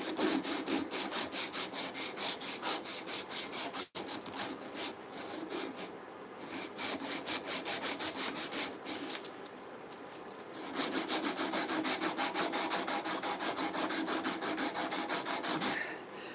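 Thick sandpaper rubbed by hand along a wooden handsaw handle, rapid rhythmic back-and-forth rasping strokes, close and steady, pausing briefly a couple of times before resuming.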